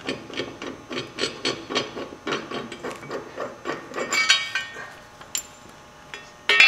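A wrench works loose the blade bolt on a John Deere 757 ZTRAK zero-turn mower, giving a steady run of close, rhythmic ratcheting clicks followed by a few scattered metallic clinks.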